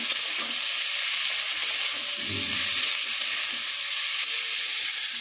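A steady, hissing sizzle of boiled ivy gourd frying in a pan, constant and fairly loud, with a brief low thump partway through.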